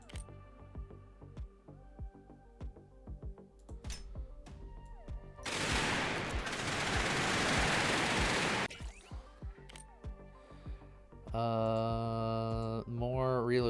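Rapid automatic gunfire in a video game with a fast fire rate and wide bullet spread, a dense loud burst of about three seconds cutting through game sounds and talk.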